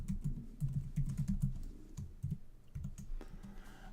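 Rapid keystrokes on a computer keyboard as a password is typed and then typed again, a quick irregular run of light clicks that stays close and moderately quiet.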